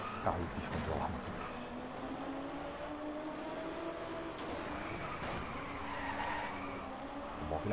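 A race car in Driveclub skids with long, wavering tire squeals over a steady engine drone, moderately loud and sustained for several seconds while someone talks quietly in the background.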